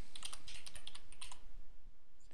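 Quick, light clicks of typing on a computer keyboard come through close and fairly quiet, a short steady run of keystrokes with no talking.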